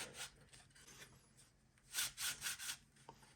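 Wood rubs and scrapes as a wooden beam compass arm slides back and forth, a few quiet strokes followed by three louder rasping passes close by.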